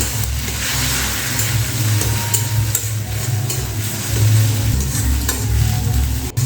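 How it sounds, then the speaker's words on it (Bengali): Beaten egg fries in hot oil in a wok, giving a steady, dense sizzle with stirring scrapes over a low rumbling hum, continuous and close for several seconds. "তেলটা যখন ভালো করে গরম হয়ে যাবে তখন আগে থেকে ফেটিয়ে রাখা সেই ডিম দিয়ে ভেজে নিতে হবে"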